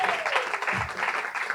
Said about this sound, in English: round of applause for our DJ, Billiam.